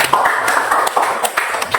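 A group at a PPG PAI session in Palembang claps together in a short burst of quick, overlapping claps, fairly near and loud, under two seconds.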